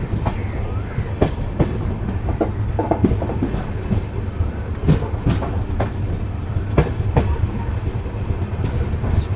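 Interior sound of the 14505 Nangal Dam Express running fast, a steady loud rumble with repeated clickety-clack wheel beats over rail joints throughout, without speech.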